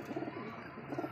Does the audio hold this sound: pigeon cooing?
yes